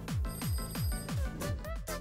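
An electronic telephone ring sounds in quick repeated pulses with falling, bouncy tones, steady and close.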